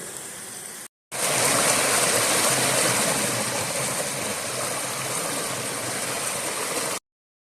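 Creek water flowing over a rocky bed in Hawn State Park, Missouri, heard as a loud, steady broadband rush close by, continuous after a brief dropout near the start, with no speech.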